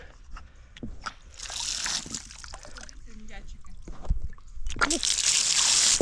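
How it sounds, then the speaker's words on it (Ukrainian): Water runs from a tap at a lakeside campsite in an uneven stream that swells into a loud steady gush near the end, with a voice talking over it. "Працює кран ось так"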